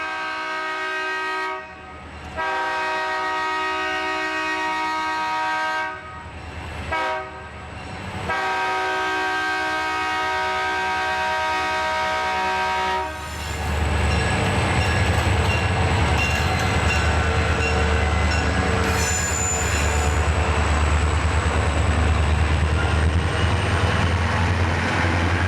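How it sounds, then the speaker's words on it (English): An eastbound B&O daily freight, R316, at Independence, West Virginia, sounds its horn in several long blasts with brief breaks, then rumbles past loudly with a steady roar of wheels and cars. "This is the eastbound daily freight R316 at Independence,"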